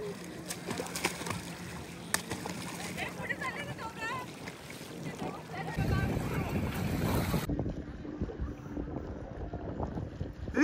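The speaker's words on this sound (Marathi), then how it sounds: "आता आपण ही राईड करू बोटिंग." A boat ride on the sea at Tarkarli near Malvan brings steady engine drone, water wash and wind buffeting the microphone, with faint voices under the noise.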